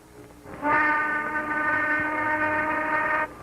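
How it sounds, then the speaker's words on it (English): A railway shop's noon whistle, from a vintage Great Northern Railway safety film, blows one loud, steady, harmonic blast for nearly three seconds, then cuts off sharply over faint background noise. "There goes the noon whistle."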